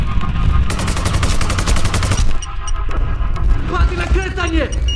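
Rapid gunfire bursts from the video game Sniper: Ghost Warrior 2 rattle through the first half over a low throbbing hum, followed by mixed game effects and a voice.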